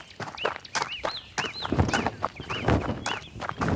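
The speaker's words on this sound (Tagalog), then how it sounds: "Narinig niyo yun? Mga ibon lang pala yun." Birds call outdoors, several short rising-falling chirps repeating in a steady rhythm over a bright, busy background of clucking-like and rustling noise, fairly close and loud.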